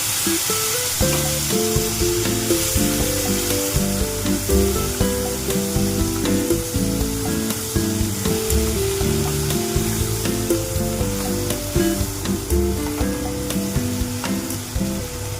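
Cumin, tomato and green chilli paste frying in a pan for a drumstick chorchori, with a continuous close sizzle and stirring under loud steady music.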